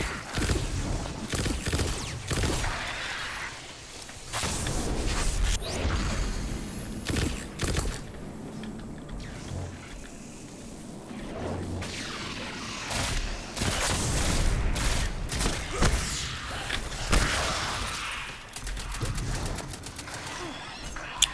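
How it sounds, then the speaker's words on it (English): A shotgun pistol firing in Destiny 2, a series of punchy blasts spread through a dense battle soundscape with booms and mechanical clatter, loud and close. "I like the sound this gun makes."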